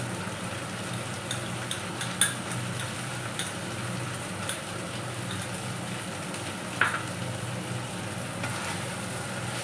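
Katla fish fries in a pan with salt and turmeric, giving a steady close sizzle with occasional small clicks and stirring taps throughout.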